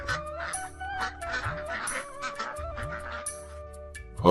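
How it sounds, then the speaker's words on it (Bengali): Cartoon ducks on a village pond give repeated nasal honking quacks in uneven bursts, loud and close, with no voices over them. "তুমি দেখি পুকুর ভরে হাঁস পুষতে শুরু করেছো"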